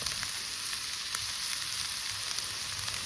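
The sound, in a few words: bacon frying on a slab at a camp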